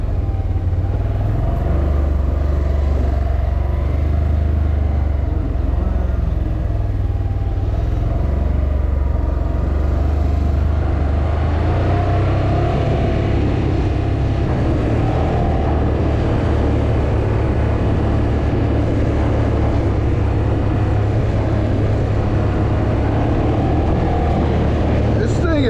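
A 2026 Can-Am 850 XT MAX quad running while being ridden, a steady loud engine drone and rumble throughout with faint rattles, and a rider speaking over it at times.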